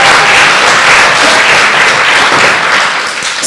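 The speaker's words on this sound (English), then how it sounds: "Let's give him a round of applause." Congregation applause welcoming a speaker at a church service: very loud, dense, sustained clapping from a large crowd, close and even, easing slightly at the very end.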